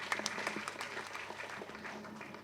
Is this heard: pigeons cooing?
no